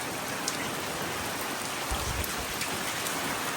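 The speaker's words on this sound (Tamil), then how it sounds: "சரியான மழை பெய்யுது ஃப்ரெண்ட்ஸ்" Heavy rain pours steadily onto a rooftop terrace garden, a dense, loud, even hiss of drops with occasional heavier splashes and no voices.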